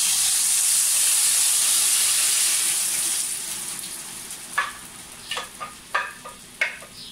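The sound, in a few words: ground chile sauce frying in oil in a pot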